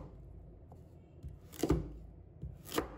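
A knife chops Chinese yam into small pieces on a board, giving a handful of quiet, sparse thuds spaced irregularly. Two of the strikes land noticeably sharper and louder than the rest.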